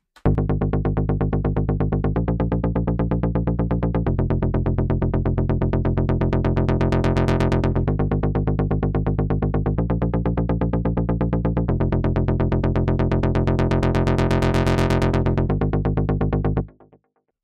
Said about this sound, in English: Next up we have bass relevant, which is kind of a harder and punchy sound, and we added a MIDI with a rolling rhythm.